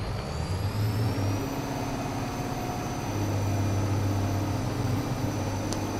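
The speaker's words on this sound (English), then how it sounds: "It basically starts out in third gear and then shifts to a higher range and fourth gear and it settles in." Buehrer 6105 tractor engine in Farming Simulator 22 droning steadily as it runs through the gears, a continuous mid-pitched hum with a slight rise in pitch partway through, no voices.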